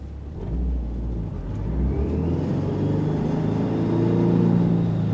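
A BMW G30 with a 2.34-litre engine accelerates in first gear from about 20 mph, its engine note rising steadily in pitch and loudness, heard close from inside the car.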